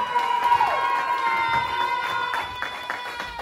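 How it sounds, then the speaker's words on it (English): An audience at a live wrestling show in Rainworth applauds and cheers for a young fan named Logan, a steady wash of clapping and crowd noise with scattered shouts throughout. "Give Logan a big round of applause, ladies and gentlemen."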